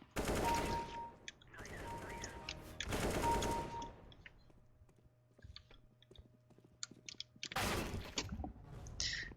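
AK rifle fire in a shooting video game against bots, in three long, loud automatic bursts, then quieter clicks and a low hum, then a final heavy burst.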